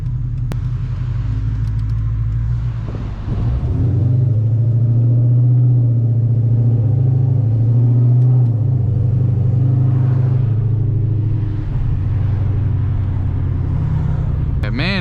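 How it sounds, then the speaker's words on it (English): A Dodge Challenger SRT8 V8 idling, heard from inside the car as a loud, deep, steady rumble that barely dips and holds for the whole stretch. "The idle sounds really good though."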